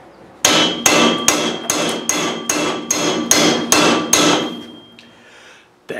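Ten loud, evenly spaced hammer blows ring out on metal during repair work on a Ghana 110, at a steady pace, then a pause and one more strike at the end.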